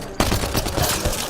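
Rapid gunfire in a Mass Effect Andromeda firefight bursts in suddenly after a brief quiet start, then continues as a dense, loud, sustained volley with repeated cracks throughout.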